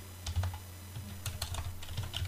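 Typing on a computer keyboard, a quick, irregular run of close, light key clicks and taps with no speech.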